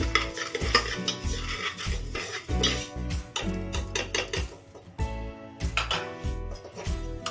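Moong dal is dry roasted and stirred inside a pressure cooker over medium heat, producing close, rhythmic scraping and rattling of lentils against metal with frequent utensil clinks and no talk.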